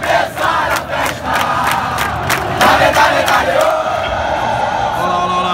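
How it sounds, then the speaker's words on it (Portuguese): Botafogo supporters' chant blasting loudly from stadium loudspeakers at Engenhão after a Flamengo–Botafogo match, a dense, continuous roar of massed singing voices with rhythmic swells throughout. "Estão botando música alta da torcida do Botafogo pra cima da gente"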